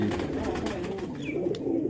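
Pigeons on a rooftop loft cooing in soft, low, rounded calls, close by, with a short chirp mixed into the steady ambient background.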